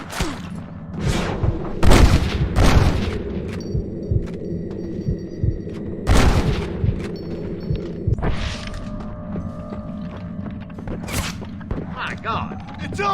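Sniper rifle shots crack loudly in a Red Dead Redemption gunfight, a handful of sharp reports scattered among distant booms and thuds while people talk and shout over the action.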